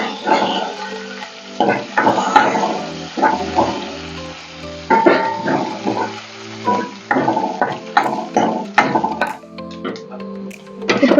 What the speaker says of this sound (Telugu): ఎండుమిర్చి కూడా వేగాక కరివేపాకు వేయాలి.